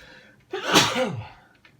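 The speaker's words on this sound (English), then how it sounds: "gotta sneeze again." A single loud, close sneeze, a quick sharp intake followed by a forceful burst that trails off, alone with no speech around it.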